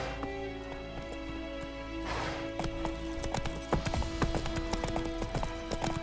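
The horse Roach gallops in The Witcher 3 with a fast, continuous rhythm of hoofbeats. The clip-clop stays close and steady under ambient game sound throughout.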